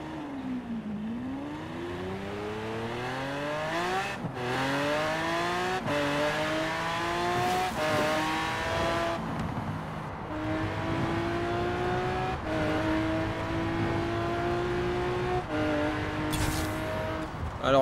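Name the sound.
Lamborghini hypercar engine in Forza Horizon 4 video game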